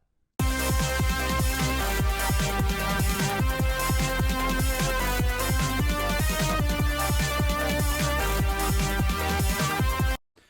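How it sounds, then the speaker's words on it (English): A dense electronic track with a bright analog synthesizer lead riding over heavy bass and beats, loud and continuous for about ten seconds. "we're trying to recreate that that lead sound that you can hear in the mix"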